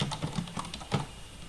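A computer keyboard tapped close up in a short run of about eight crisp, uneven keystrokes with brief pauses, no voices.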